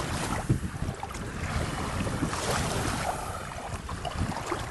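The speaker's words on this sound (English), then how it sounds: "it is pretty windy" Strong wind buffets the microphone in a constant rushing roar at a lakeshore, with water lapping faintly underneath and no voices.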